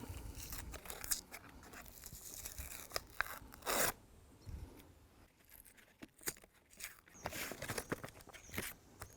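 Plasterboard being snapped and peeled away from its paper backing during a wall hole repair, giving quiet crunching, tearing and crinkling sounds in irregular bursts close by, with one sharper crack partway through.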